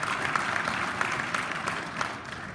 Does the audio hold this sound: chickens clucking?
no